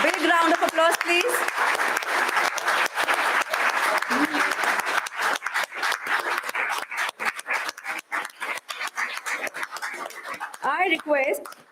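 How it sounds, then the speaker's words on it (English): An audience at a formal ceremony claps in a sustained round of applause. The dense clapping is steady at first and then thins into scattered claps, with brief voices over it. "Big round of applause, please."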